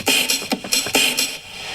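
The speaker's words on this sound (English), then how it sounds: "with a reverb," A drum loop played on a Novation Launchpad with a big reverb effect: a few punchy beats, each with a long, washy tail, fading into ringing ambience at the end.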